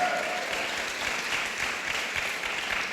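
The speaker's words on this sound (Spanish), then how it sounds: "le puede dar un aplauso a ese Cristo de la gloria" Applause from a church congregation at a Christian conference, a thick, continuous roar of many hands clapping that stays loud and level throughout, with a faint voice briefly under it at the start.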